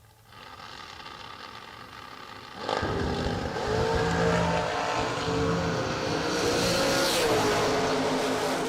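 Drag race cars launching at an SFG FuelTech drag strip event: a steady engine drone, then an abrupt, very loud roar as the cars launch, the engine howl sustained and rising in pitch as they pull away down the strip.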